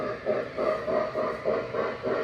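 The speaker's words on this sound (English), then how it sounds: "Long train, kind of heavy for this." A long, heavy Lionel Legacy L1 model train with a Mabuchi RS385 motor runs close by, giving a steady whirring drone with a regular rhythmic clatter pulsing about twice a second.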